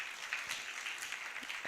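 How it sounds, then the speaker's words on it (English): Applause for Patrick Mugisha at an intellectual property conference, a faint, steady patter of many hands that runs through the whole moment with no talk over it. "Ladies and gentlemen, another round of applause for Mr."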